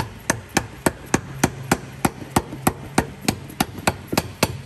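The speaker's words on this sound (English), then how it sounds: "then I'm going to give it a light tap. Again, just a little tap." Light hammer taps seat a CV joint cover plate on a Ford Everest tail-shaft, about fifteen crisp, close, evenly spaced metallic strikes in a steady rhythm with no speech.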